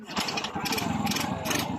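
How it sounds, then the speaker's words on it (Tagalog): A Yamaha STX 125 motorcycle engine fires up despite a hard-starting ignition coil fault, settling into a steady close, loud, rhythmic idle chug with brief voice fragments over it. "Umandar agad yung motor"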